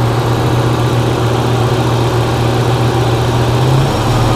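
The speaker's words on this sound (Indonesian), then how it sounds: "kita coba kita gas-gas langsung dari ruang mesin agar kita mengetahui kondisinya seperti apa mobilnya ya" Opel Blazer with a modified engine bay and relocated ignition coil, engine idling steadily throughout with a constant low hum and vibration, no talk.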